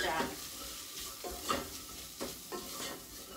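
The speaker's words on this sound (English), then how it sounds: "Give it a good stir." An onion mix with a bay leaf being stirred in a sizzling pan, with several soft scraping strokes over a quiet, steady frying hiss.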